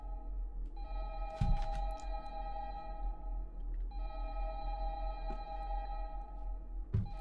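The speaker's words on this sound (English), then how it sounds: "This ringing in my ear is getting really annoying" A sustained electronic ringing tone in Five Nights at Candy's 2 sounds in two long steady stretches, with a few soft thumps under it.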